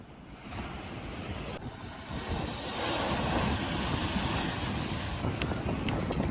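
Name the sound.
waves on a secluded rocky beach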